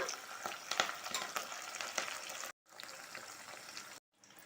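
Hibiscus leaves cook in a pan to make hair oil, giving a soft steady sizzle with occasional stirring scrapes, fairly quiet and close, briefly cutting out twice.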